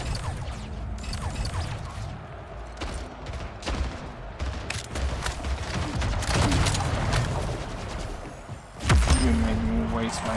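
Rocket launcher and weapon fire in the online shooter Splitgate, a busy run of sharp blasts and impacts with a heavier boom near the end, while a player talks over the action.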